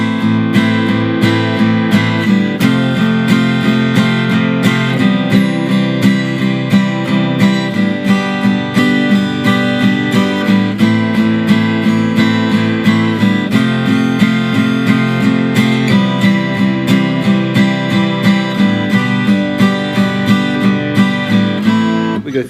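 Acoustic guitar strumming the chords of a song in a steady, even rhythm, close and loud, continuing without pause and with no voice.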